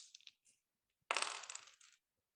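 Two dice hit a table during a tabletop role-playing session, giving a short, quiet clatter that rattles for under a second after a few faint clicks.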